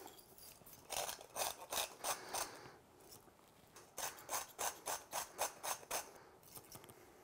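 Pepper Cannon grinder grinding coffee to a finer setting, close and fairly quiet, rasping in two runs of rapid, regular crunching strokes, with a short pause between them.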